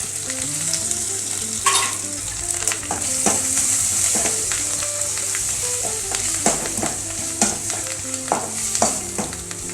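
Chopped tomatoes frying in hot oil with ginger and garlic in a pan, a loud, steady sizzle close by, broken by scraping spatula strokes and clinks against the pan; no voices.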